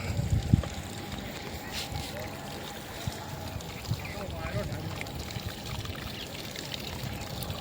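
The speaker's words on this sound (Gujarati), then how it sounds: "આ બોર ચાલુ કર્યો।" Water from a borewell pump gushes steadily into a wheat field, a continuous broad rushing and splashing that stays even throughout.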